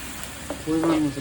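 Onion, garlic and chili paste fry in a pot of chicken, giving a soft, steady sizzle with a brief clatter of stirring and a faint short voice over it.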